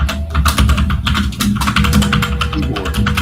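Rapid, loud close-up typing on a computer keyboard, a dense run of clacking keystrokes continuing throughout with no talk.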